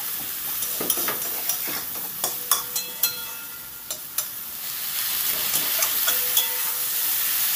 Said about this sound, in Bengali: বেগুনটাকে আমি ভেজে নেব